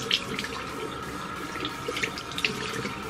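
A running tap splashes steadily as soap is rinsed off a face at a bathroom sink, a continuous close wash of water with small splashes and no talking.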